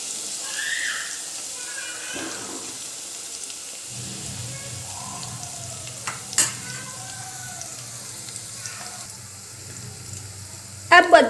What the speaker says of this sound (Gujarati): આને બે મિનિટ સુધી તેલમાં સાંતળી લઈશું